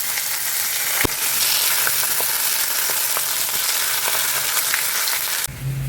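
A fish head fries in a generous amount of hot oil, giving a steady, dense sizzle with faint crackles and pops throughout that briefly drops off near the end.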